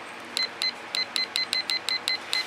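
A digital timer being set during an acrylic pour painting session: about ten short, high electronic button beeps tapped out quickly at slightly uneven intervals, close and clear over a faint steady background hiss, with no talking.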